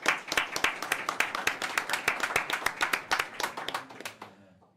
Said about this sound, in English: So huge applause for them.